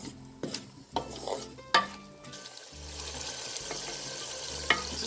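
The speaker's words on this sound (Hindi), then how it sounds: "प्याज हमारा सौते हो रहा है, मैंने इसे ब्राउन नहीं करना, लाइट सौते करना है।" Onions sauté lightly in a karahi for chicken karahi, with a soft sizzle broken by several sharp scrapes and knocks of a spoon against the pan, close by, with quieter stretches between the strokes.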